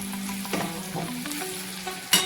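Urad dal with chopped coriander being stirred in a hot pan gives a close sizzle with scraping strokes, ending on a sharper clatter.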